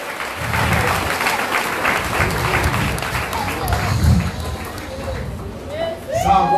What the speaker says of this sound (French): Applaudissez le Seigneur, laisse-moi la bénédiction.